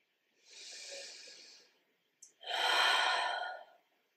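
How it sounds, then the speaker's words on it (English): Deep breathing during a grounding yoga practice: a long inhale through the nose followed by a fuller, louder exhale out through the mouth, both close and breathy with a brief pause between. "take a couple of big deep breaths in through your nose and exhale out through your mouth."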